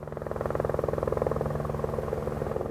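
A firefighting helicopter carrying forest fire crews descends near a wildfire on a plateau to fill its water bucket, its rotor thudding loud and steady in a rapid pulsing beat over a low engine drone.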